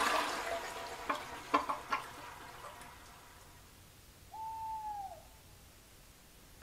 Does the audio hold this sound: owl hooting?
yes